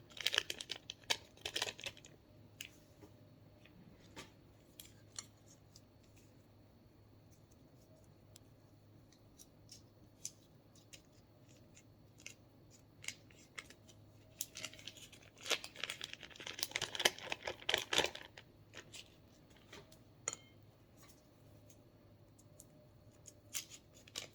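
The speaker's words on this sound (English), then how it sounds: "then I'll open up my butter" A pack of butter is unwrapped in a quiet kitchen: crisp crinkling and tearing of the wrapper come in bursts near the start and again midway, separated by soft scattered ticks and handling noises.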